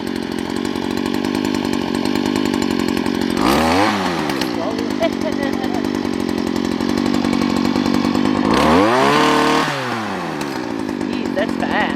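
Power trimmer revving loudly as its trigger is squeezed, holding a steady buzzing whine with two sharp rev surges around the middle and near the end, people talking over it.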